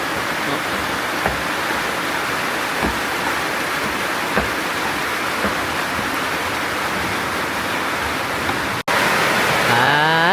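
Steady rain falls in a dense, even hiss with a few soft drips, then cuts abruptly to a louder wash near the end.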